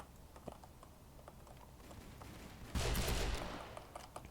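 Gunfire from the Roblox game The Wild West: faint scattered clicks lead up to one loud, abrupt burst of shots near the end that fades out over about a second.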